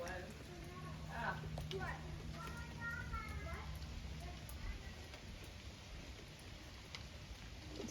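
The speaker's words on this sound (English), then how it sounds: "It's raining." Rain falling outdoors in cold weather, a soft steady patter beneath children's and adults' voices talking nearby throughout.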